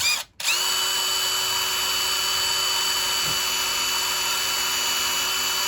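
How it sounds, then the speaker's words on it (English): A power drill bores a hole during a storeroom fit-out, running as a steady, loud whine for nearly the whole stretch after a short silent gap at the start. "gently drill a hole"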